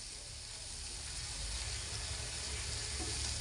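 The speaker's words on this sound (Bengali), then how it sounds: "এখন আমি 1 মিনিটের মতো নেড়ে চেড়ে কষে নেব।" Yogurt and ground spice marinade paste sizzling and frying in a pan while being stirred, a steady close hiss throughout for paneer cooking, no voices.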